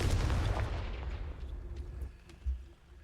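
A Confringo blasting spell explodes in the video game Hogwarts Legacy, a loud booming blast that opens the clip and rumbles away into a low tail, with a smaller thud near the end.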